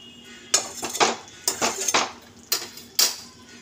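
A spoon scrapes and clanks against a pan while a spicy chilli and yogurt mixture is stirred and sautéed. Five or six sharp, close metallic strokes fall in an uneven rhythm over a quiet background.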